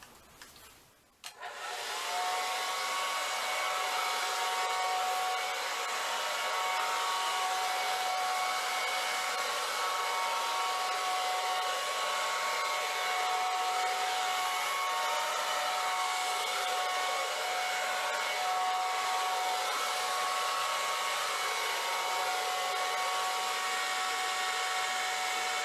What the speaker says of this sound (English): so that I can then use the dryer over it